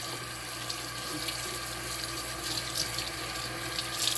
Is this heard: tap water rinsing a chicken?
yes